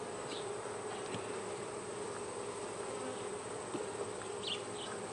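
Honey bees around an open hive frame during a beekeeping hive inspection, a faint, steady droning buzz that runs continuously, with a few brief closer passes of individual insects standing out from the background hum.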